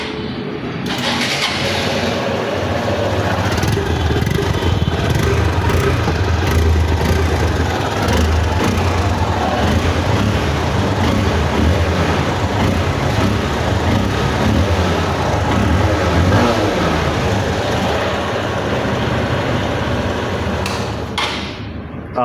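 A Hero Hunk motorcycle engine runs steadily at close range for about twenty seconds, a loud continuous rumble with no talk.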